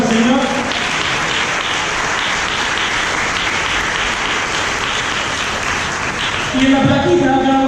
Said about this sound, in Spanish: Yo le pido un fuerte aplauso al Señor.